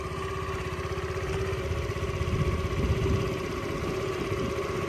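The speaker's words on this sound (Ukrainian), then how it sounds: "Робота двигуна ідеальна взагалі." A Honda Dio AF-68 fuel-injected scooter engine idles steadily close by, a continuous buzzing putter with a slight rise in intensity midway, no voices over it.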